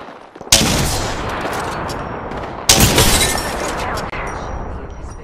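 Gunfire in the Apex Legends video game, two loud bursts of shooting each followed by a sustained roaring wash of noise, close and dominant with no talk.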